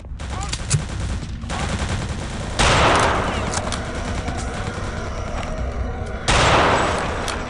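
Rapid gunfire from Return to Castle Wolfenstein, with dense automatic bursts of shots and two louder, heavier volleys partway through, loud and up close.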